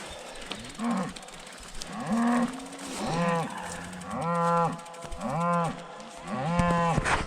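Several Slovak cows on a pasture moo one after another, long drawn-out lowing calls with short gaps, fairly close and loud over quiet outdoor background.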